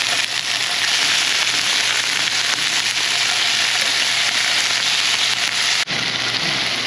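Mahi fish fillets fry in a hot pan, giving off a steady, bright sizzling hiss that carries on unbroken and fairly loud, with no talking.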